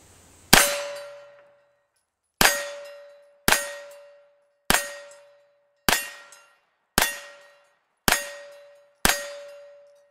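Eight sharp, loud pistol shots from a 9mm, fired at a Halloween pumpkin outdoors in Murphy, North Carolina, each a crisp metallic crack with a ringing tail, spaced about a second apart after an opening gap, with no talking.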